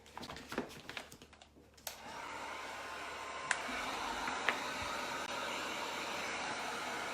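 A heat gun dries a handmade wooden sign, giving a loud, steady blowing roar up close that runs continuously after a few seconds of handling clatter at the start.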